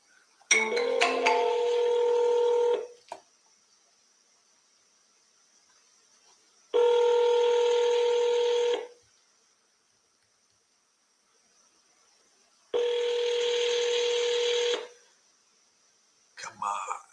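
Ringback tones from a telephone call come in three steady, evenly spaced bursts of about two seconds each, with silent gaps between them, and a brief fourth burst starts at the end.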